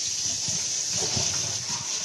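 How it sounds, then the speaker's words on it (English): Running water, probably a faucet, rinsing dishes in a home kitchen, a steady close broadband gush that stays even throughout with no talk over it. "I'll turn around here while I rinse this stuff out."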